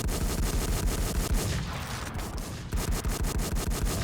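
Sustained automatic weapon fire in the video game WarZ rattles on in loud, close, rapid bursts, easing briefly midway before hammering back in a steady stream.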